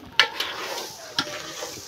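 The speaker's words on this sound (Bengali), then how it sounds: "মুড়ি ঘন্ট রান্না করা হচ্ছে।" Muri ghonto with rohu fish head and mung dal cooking on a stove, soft frying hiss with a few sharp clinks of a utensil stirring against the pot.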